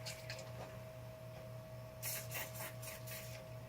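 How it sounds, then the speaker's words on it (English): A spray bottle spritzes a soap mold for glitter soap, several quick bursts in a row near the end after a few softer squirts, over a faint steady background hum. "If you don't spray your mold, your soaps will stick."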